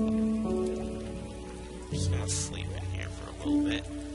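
Rain falling in the Starbound video game, a steady patter of raindrops on surfaces running under sustained game music tones, with a voice talking over it.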